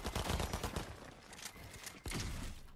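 Dense, rapid gunfire from a video game rattles loudly at the start, fades into a noisy mix of game sounds, and then a single sharp shot cracks out before the clatter continues.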